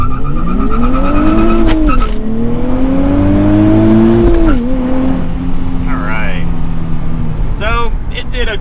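A 2023 Nissan Z with a manual gearbox and traction control on launches hard, its engine revving in rising sweeps with a gear change midway, followed later by short bursts of tire squeal, loud and close inside the car.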